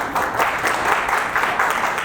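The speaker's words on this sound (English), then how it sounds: "that deserves a clap, come on" An audience at a community lecture in Bahrain breaks into steady, dense applause, many hands clapping together at moderate volume for a couple of seconds.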